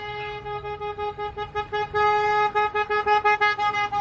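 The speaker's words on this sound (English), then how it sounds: "Somebody's driving by honking in solidarity with the protesting kids." A passing car honks repeatedly near a street protest, loud horn toots in a steady rhythmic series that speeds up into short, evenly spaced blasts, with no voices over it.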